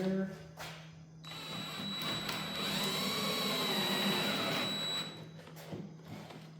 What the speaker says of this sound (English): now I'm just going to drill the countersink holes just a little bit here